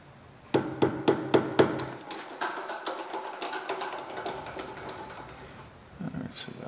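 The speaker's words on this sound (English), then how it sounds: "All right, get a hammer." A hammer striking a screw extractor in a quick series of sharp metallic taps, several loud blows followed by a run of lighter ones, close up, with faint handling sounds at the end.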